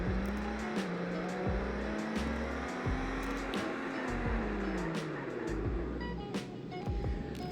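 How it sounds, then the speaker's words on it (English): A Toyota Supra in a Roblox driving game brakes hard from 100 mph, its engine note sliding steadily down in pitch as the car slows, with a steady mid-level drone and faint scraping texture underneath. "here's a braking test from 100 miles an hour in the Supra."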